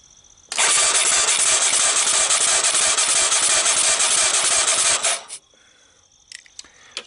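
Yamaha Moto4 ATV with a trashed motor, its engine cranking on starting fluid: a loud, steady, buzzing starter grind for about four and a half seconds, then stopping, followed by a few faint clicks.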